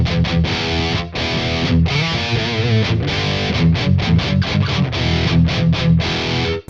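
Heavy distorted electric guitar played through a thrash-metal-style amp model in Neural Amp Modeler, chugging in tight palm-muted bursts with short stops, loud and saturated, no voices.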